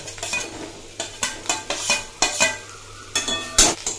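Pointed gourd frying with potatoes and spices, stirred in a pan: repeated rhythmic scraping strokes of a spatula over a soft sizzle, close and fairly loud, about ten strokes in four seconds.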